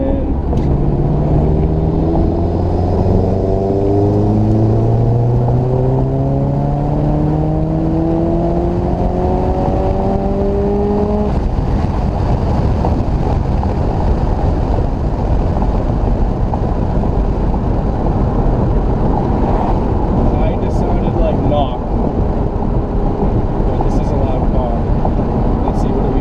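Subaru Impreza S203 replica pulling hard in fourth gear from about 2,000 rpm, engine tone climbing steadily over the first ten seconds and then settling into a loud, dense drone with wind noise at close range.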